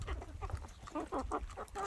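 Several hungry chickens cluck in short bursts while pecking food from the ground, close by, with a steady rustling scratch beneath their calls.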